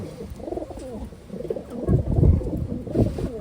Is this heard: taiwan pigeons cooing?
yes